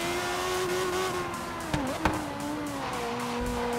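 Racing car in the Forza Horizon 3 video game, its engine holding a steady high drone with two sharp tire squeals in the middle, loud and close, with no talking.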